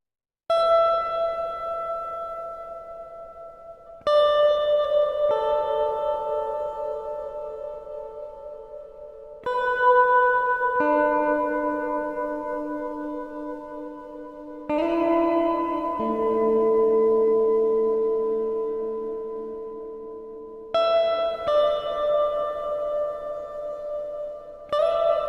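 An Alesis Midiverb III set to a long ambient reverb washes over slow synth notes and chords, each phrase ringing out in a smooth, sustained tail that fades gradually between clean restarts.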